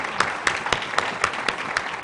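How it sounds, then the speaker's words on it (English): Applause from a forum audience for the panelists at a children's nutrition and healthy weight event, with sharp claps landing in a steady rhythm over a brief stretch, loud and close, without talk. "Let's have a big round of applause for our panelists."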